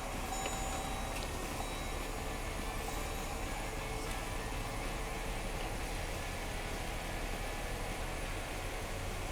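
A car engine running at a steady idle, heard as a continuous, even, broadband rumble and hiss close by for the whole stretch, with no clear start and no voices.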